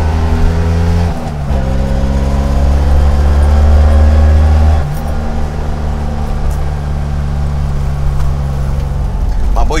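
Vintage Fiat 500 with a 700cc D'Angelo Motori tuned engine and five-speed synchronized gearbox on a test drive; a loud, close engine drone that rises through revs, drops at a gear change, then settles, with someone talking over it.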